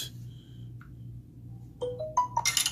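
After a Samsung phone is switched on, a string of short notification chimes and pings sounds nearby, first faint isolated tones, then a rising run of quick alert tones.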